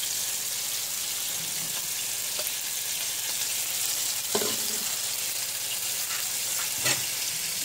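A whole onion frying in oil for refried beans gives a constant, even sizzle, close and steady, with a few faint clicks of a utensil.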